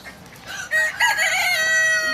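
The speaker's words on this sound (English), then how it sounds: "That is a funny looking little chicken back there." A small bantam chicken at a poultry and livestock auction crows loudly, its drawn-out call rising after a few soft clucks and holding strong to the end, close by with no talking.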